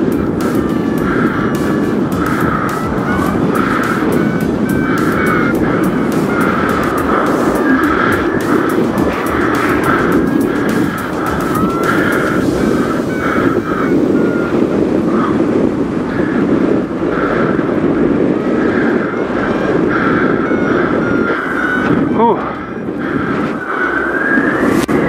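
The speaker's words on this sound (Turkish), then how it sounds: "İnönü'de bir uçuş" Steady, loud roar of an airplane engine in flight, a constant droning rumble throughout with no talking.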